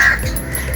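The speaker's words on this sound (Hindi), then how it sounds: "देखें वो कौवा बैठा ऊपर" A crow perched overhead gives a single loud, close caw, harsh and brief, standing alone without any talk.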